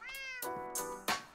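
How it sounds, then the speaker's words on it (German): In Minecraft, a cat meows three or four times in quick succession, each call short and clear, close and alone without talk. "Katze."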